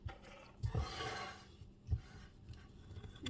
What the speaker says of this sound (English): I just scoop it and scrape it against the bowl